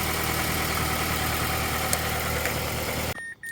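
A car engine idles steadily with a loud, close, continuous rumble during an alternator check, then the sound cuts off abruptly near the end.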